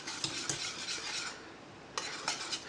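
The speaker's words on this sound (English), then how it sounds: "Now we're going to stir it" A spoon stirs cauliflower cheese sauce in a pan, giving repeated scraping and clinking strokes against the metal, fairly close, with a brief pause before stirring resumes.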